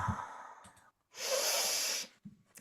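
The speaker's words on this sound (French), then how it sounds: "prenez le temps de respirer profondément" Deep breathing, close to the microphone: a slow breath, a short pause, then a long, strong, airy exhale that lasts about a second, followed by softer breath sounds.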